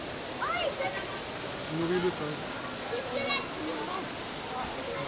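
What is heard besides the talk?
small waterfall at the zoo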